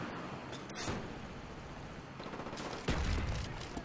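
Repeated gunfire in a team deathmatch video game shooter, dense bursts of shots running throughout with a louder, closer volley near the end.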